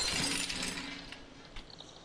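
Glass shattering in the video game Stray as the cat knocks it over, a sharp crash with tinkling shards trailing off quietly, followed by a faint clink.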